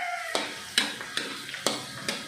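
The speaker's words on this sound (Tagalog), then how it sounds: "Sasalog-salogin lang natin ng kaunti yung bawang bago natin ilagay yung sibuyas at saka yung sili." Garlic sautés in a pan with a continuous close sizzle, broken by about five rhythmic scraping strokes of a spatula stirring it.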